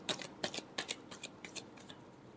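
Tarot cards being shuffled by hand, heard as a quick series of soft, crisp riffles and slaps that fade toward the end. The sound is faint and close.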